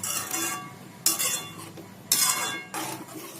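A spoon scrapes and clinks against a pot as boiled leftover vegetables are stirred and mixed, with several bursts of metallic scraping in a steady rhythm, close and alone without talk.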